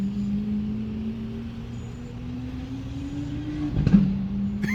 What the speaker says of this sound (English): It pops on every upshift, man.